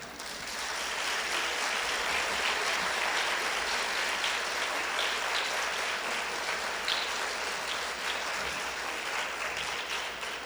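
Conference attendees applaud after a talk on electoral law challenges, a broad, even roar of many clapping hands heard from within the room, sustained at a constant level with no speech.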